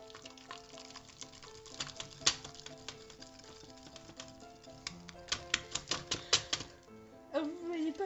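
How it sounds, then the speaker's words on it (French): A spoon clinks and taps repeatedly against a mug while mug cake batter mixed with apple-banana compote is stirred, with quick irregular scraping strikes that cluster into a rapid run near the end, fairly close and moderately loud. "Et on recommence à mélanger."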